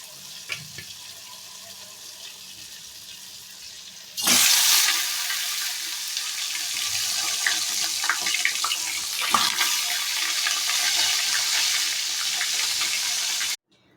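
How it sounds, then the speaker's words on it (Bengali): Pieces of katla fish go into hot oil, and a loud, steady frying hiss starts at once. It stays strong, with small spatters through it, and then cuts off sharply near the end. No one speaks. "তেল গরম হয়ে গেছে, আমি মাছগুলো এবার ভেজে নেব।"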